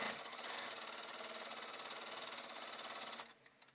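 A sewing machine runs steadily at an even, fast rhythm while stitching a fabric seam for a 1920s evening dress, close and continuous, then stops abruptly near the end.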